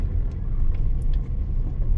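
Car traffic stuck in a jam just past a long urban tunnel on the Dwarka Expressway between Delhi and Gurugram: a steady low rumble of idling and creeping engines with faint passing hiss, continuous throughout.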